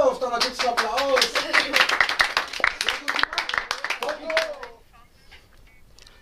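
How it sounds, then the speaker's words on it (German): A church youth group claps together at a confirmation event, lively applause with voices and cheering over it, then fading abruptly into near silence. "Dann gibt's einen Applaus."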